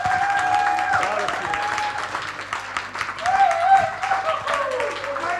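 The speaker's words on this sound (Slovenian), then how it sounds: "daj me en aplavz Jezusu" A church congregation in Ljubljana claps together during a worship service, moderately loud applause mixed with cheering voices and sustained tonal sounds, likely music, beneath.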